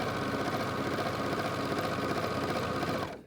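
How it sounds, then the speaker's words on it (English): A sewing machine runs steadily along a fabric edge for about three seconds, a close, continuous, even mechanical whir that stops abruptly at the end. "we are just sewing on the edge of our fabric"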